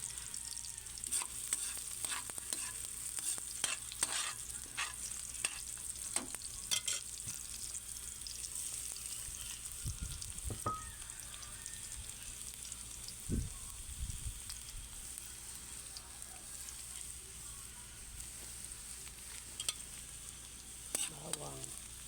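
Garlic fries in a pan for a Filipino pork kaldereta, a steady bright sizzle broken by repeated scraping stirs and a few louder clanks of the spoon against the pan.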